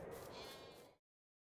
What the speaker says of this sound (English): So the sheep are looking pretty happy